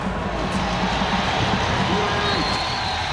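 Record crowd of 59,000 fans at Nissan Stadium roaring and cheering for Nashville SC's first MLS match, a steady distant wash of noise beneath a commentator's voice.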